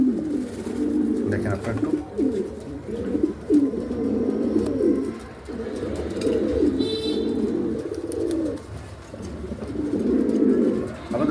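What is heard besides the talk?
pigeon calling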